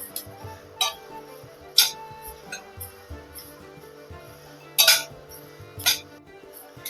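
Flax seeds roasting in a pan for a chutney, with scattered sharp clinks and scrapes of a spoon stirring against the pan over a quiet background hum.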